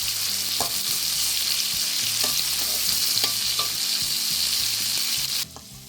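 Marinated giant freshwater prawns and their claws frying in a pan, a steady loud sizzle with occasional stirring clicks and scrapes, no voices, cutting off abruptly near the end.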